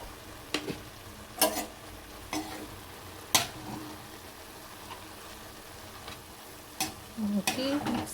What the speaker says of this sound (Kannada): ಹಾಕಿ ಮಿಕ್ಸ್ ಮಾಡಿ.